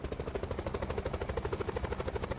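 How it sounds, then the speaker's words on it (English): Rhythmic rotor thumping of a helicopter in a shooter video game, a steady close pulsing beat heard alone over a short stretch. "Oh, it's another helicopter."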